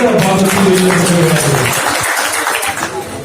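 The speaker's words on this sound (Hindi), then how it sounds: "तालियां खोल के बजा दीजिए।" Audience applause fills the hall at an awards ceremony, a dense, steady patter of many hands beneath a voice speaking over it, tapering slightly toward the end.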